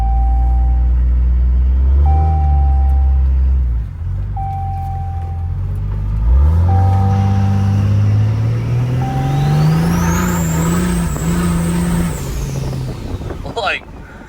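A 1968 car accelerates hard with a loud, close engine that climbs, drops as the gears shift, and climbs again. A steady high whine rises over the top, and a few brief chirps are heard.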